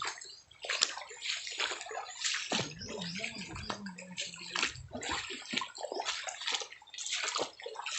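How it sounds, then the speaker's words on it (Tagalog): Water flows and splashes inside Olarte cave. Irregular sloshing and gurgling surges rise and fall close by, with a brief low murmur partway through. "Tubig god."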